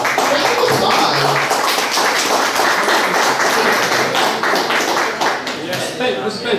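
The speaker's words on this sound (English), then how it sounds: "do we have round of applause?" Sustained applause from an audience at a proptech startup pitching event in Austin, a dense, steady wash of clapping that fills the whole stretch at close range.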